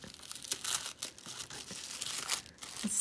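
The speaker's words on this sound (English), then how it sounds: "I feel bad like ripping the wrapping of it." Wrapping paper being torn and crinkled off a gift package, close and loud, a continuous series of ripping and crumpling bursts without talk.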